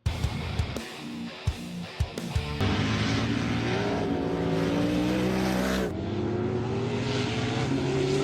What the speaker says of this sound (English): Those sand cars are so cool, and I cannot even imagine what it feels like to be behind the wheel of one of those.